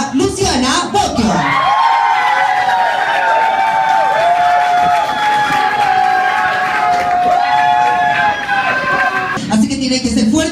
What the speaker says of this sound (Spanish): Así que tiene que ser fuerte el aplauso para la estupendísima Luciana Bocchio.